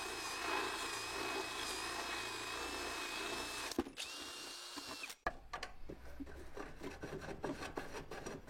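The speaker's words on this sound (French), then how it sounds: "maintenant il faut que je perce ça. Je perce ici là." Electric drill boring a hole, a steady whining motor drone up close with a rubbing, grinding edge, stopping briefly partway, then giving way to scraping and rattling handling noises.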